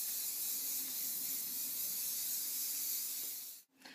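Hair spray hisses in one continuous burst onto hair during a victory rolls styling, close and steady for over three seconds before cutting off abruptly.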